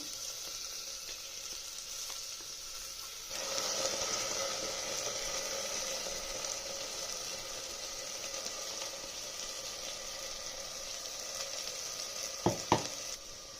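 Ground spice paste added to softened onions frying in a pan, a soft steady sizzle that swells after a few seconds and holds, with two brief knocks near the end.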